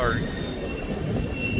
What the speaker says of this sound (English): lo and behold, a BNSF train appeared.